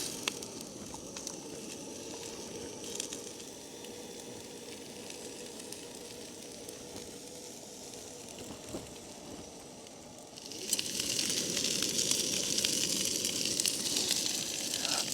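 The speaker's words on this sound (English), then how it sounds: "My onions are not burnt, they're caramelised." Onions caramelising in a pan over a camp stove at a freezing wild camp on a fell, giving a steady soft sizzle that swells louder and brighter near the end.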